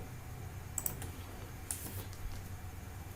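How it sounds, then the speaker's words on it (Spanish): Computer keyboard keys are tapped while drafting in a CAD drawing program, a few faint quick clicks over a quiet low hum, without talk. "ejecuto bloque disk de nuevo, siempre con el teclado"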